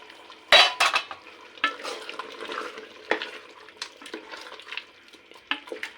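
Beef bhuna cooked with home spices is stirred in a pan, giving irregular close scraping strokes and sharp clinks of a utensil against the metal, with soft sizzling between them.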